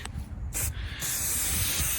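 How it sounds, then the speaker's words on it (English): A Plasti Dip aerosol rattle can sprays a rust-protective coating onto metal: a short hissing burst, then a longer steady hiss of spray, close up. "In auto body, you don't spray with cans like this. It's called rattle can"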